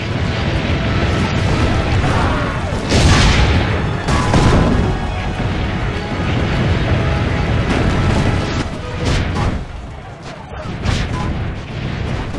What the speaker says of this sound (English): The cannon, signore. Aim for the cannons.